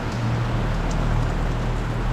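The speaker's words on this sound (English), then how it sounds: "It's still raining, and we got some people out and about." Rain falls on a Macau street in the wake of a typhoon, a dense, even hiss of drops on pavement lasting the whole moment, loud and close with no voices.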